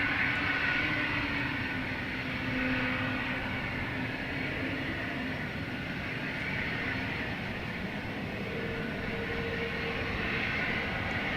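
A Delta airliner taking off at Boston Logan Airport, heard from a distance as a steady, broad jet roar that holds evenly throughout with no talking.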